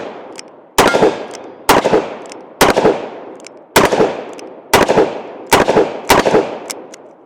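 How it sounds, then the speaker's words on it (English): An R8 revolver fitted with a Midwest Industries brace fires seven loud, sharp shots outdoors at irregular intervals of roughly a second, each blast decaying quickly with a brief echo. "Let's go ahead and take some more shots with the R8."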